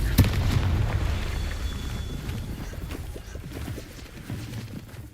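A Confringo fire spell in Hogwarts Legacy bursts with a sharp explosive boom at the start, then a low rumbling decay that fades over several seconds.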